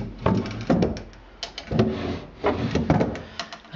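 Wooden drawers of a Georgian oak dresser being opened and shut, a series of hollow thunks and sliding scrapes in irregular bursts, close and fairly loud, with no voices.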